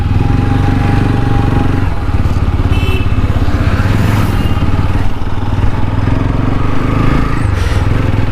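A motorbike engine runs close by with a steady, loud low rumble and continuous mechanical clatter that holds throughout, with no talking.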